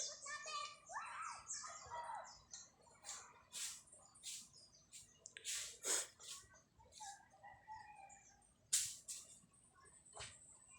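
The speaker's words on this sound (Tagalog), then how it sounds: "Yun yung mga gansa." Distant honking and squawking calls from a flock of large birds, scattered irregularly over a quiet outdoor background.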